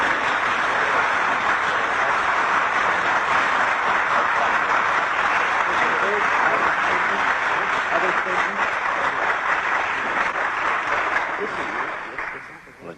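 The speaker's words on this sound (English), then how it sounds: "I'm sure that they've had a nice emotional bath with that applause" A large audience applauding at an old televised event, as a dense, sustained wash of clapping that holds steady for about twelve seconds before quickly dying away.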